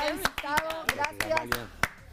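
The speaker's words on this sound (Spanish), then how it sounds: "Chicos, un aplauso para este gran visita" An interview audience claps for the guest in sharp, separate, uneven hand claps, with voices talking over the clapping throughout.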